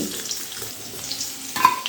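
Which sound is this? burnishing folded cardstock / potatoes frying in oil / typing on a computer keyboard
potatoes frying in oil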